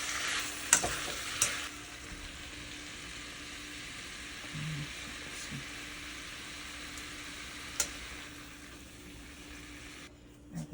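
Vegetables stir-frying in a wok for Cantonese chow mein give a steady, close sizzle with sharp scrapes and clinks from stirring, and no one speaks.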